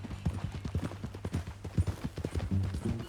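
A horse in Red Dead Redemption 2 walks with irregular, soft hoof clip-clops close by over a low musical drone, fairly quiet.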